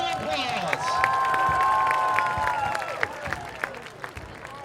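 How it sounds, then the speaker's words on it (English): Stadium crowd at a UNCP versus Limestone college football game, a broad wash of cheering and applause over a steady public-address tone, with sharp spikes from nearby claps and shouts. "Fans, please still give her one big round of applause."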